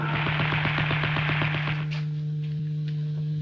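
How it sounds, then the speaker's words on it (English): Rapid machine gun fire rattles in a fast, even burst of about a dozen shots over a steady low hum, then stops, leaving the hum and a few faint knocks. "Machine gun fire."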